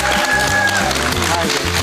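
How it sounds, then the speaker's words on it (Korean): Studio audience applause on a Korean TV talk show, a steady clatter of clapping mixed with background music and voices. "박수."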